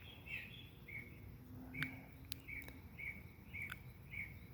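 Faint, distant birds sing in the morning, short high chirps repeating over a steady outdoor hiss, with a few sharp ticks; no voices.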